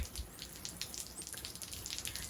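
Water is poured generously into the pot of a trailing jade succulent, giving a faint, uneven splashing and trickling with no voices.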